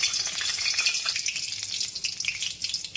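A bay leaf dropped into hot oil gives a bright, steady sizzle and crackle, close and continuous with no talking.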